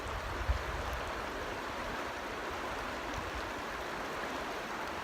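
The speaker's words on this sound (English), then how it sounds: "Listen to the sound of the river as it bounces over the rocks and around the rocks." Steady broadband rush of a river flowing over and around rocks, constant and fairly close, with no voices and no pauses throughout.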